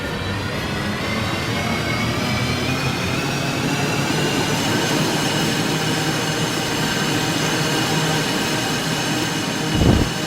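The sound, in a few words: train passing loudly in a video game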